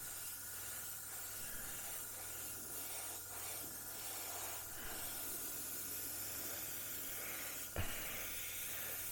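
An airbrush lays light coats of paint on a 1/35 Border Models Spitfire Mk Vb, a soft continuous airy hiss with faint pulsing as the trigger eases, quiet and close, ending with a small knock.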